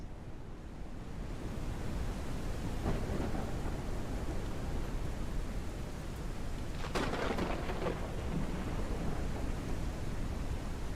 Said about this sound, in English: like the thunderstorms aren't super amazing quality, but the lightning strikes is something where I do want to avoid